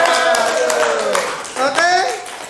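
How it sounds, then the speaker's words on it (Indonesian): A group of students in a classroom claps hands together, a scattered patter of claps mixed with children's and a teacher's voices. "Wah, tepuk tangan buat diri kita sendiri."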